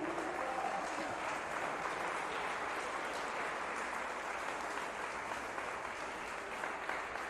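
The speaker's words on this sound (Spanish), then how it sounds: "Dele ese aplauso fuerte al Señor." A church congregation bursts into steady, sustained applause, a dense wash of clapping from many hands that carries on without a break throughout.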